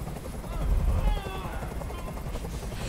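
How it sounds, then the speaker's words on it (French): A helicopter hovers in the video game Detroit: Become Human, its steady broadband rotor rumble continuous and fairly loud, swelling briefly near the start amid other game noise. "Fais dégager cet hélicoptère, maintenant."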